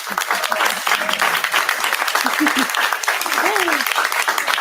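Audience applause right after a live trio song, a dense burst of clapping and cheering filling the room, with voices calling out over the claps.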